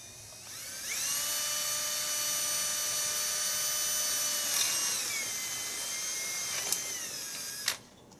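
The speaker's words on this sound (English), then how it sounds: "Okay, that metal was really easy to drill through, so it's really soft." A power drill bores through the soft metal of a flag mount, a steady high whine that holds for several seconds, dips in pitch, then cuts off with a brief clatter.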